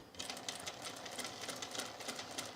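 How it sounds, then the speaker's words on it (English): A sewing machine makes a few slow stitches turned by the hand wheel while sewing an Azores dress, soft rhythmic mechanical ticking at close range, faint and alone. "I'm just going to start a few stitches with my hand wheel"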